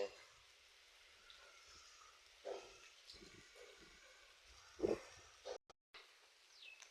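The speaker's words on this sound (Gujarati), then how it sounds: "વરસાદ ચાલુ છે અત્યારે મિત્રો અહીંયા જોઈ શકો છો તમે" Soft, steady rain hiss fills the background, broken by a few louder knocks and thuds nearby.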